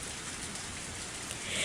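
Steady downpour in the Higurashi When They Cry: Tatarigoroshi game, a dense even hiss of heavy rain on surfaces, continuous and fairly close with no voices.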